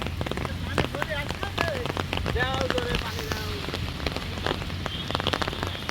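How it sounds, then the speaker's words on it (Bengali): Heavy rain pours steadily over a village fishing spot in Bangladesh, a dense continuous patter of drops close by, with people talking and calling throughout. "তুমুল বৃষ্টি শুরু হয়ে গেল"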